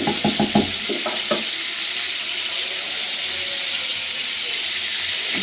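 Fish sizzles in hot oil in a wok during home cooking of a boal fish curry, a steady close frying hiss with a few stirring knocks at the start.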